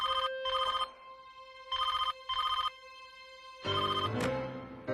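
A telephone rings in repeated short double bursts, clear and fairly close, with a steady electronic tone underneath.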